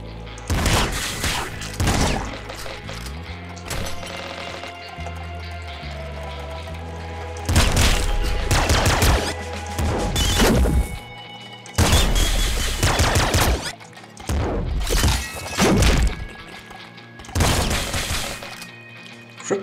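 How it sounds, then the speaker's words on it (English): A triple machine gun from the game Nuclear Throne fires in loud, dense bursts separated by brief pauses, with crunchy shattering impacts running through each volley. "Triple machine gun."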